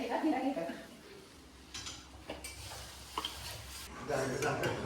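Flour dough is worked by hand in a home kitchen, with soft squishing and rubbing sounds and a few light knocks against a bowl, close and fairly quiet, while someone talks.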